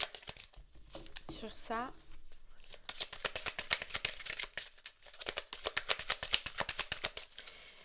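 Tarot cards shuffled and drawn by hand in dense rapid bursts of crisp riffling and slapping, close and fairly quiet, with someone speaking briefly in French early on.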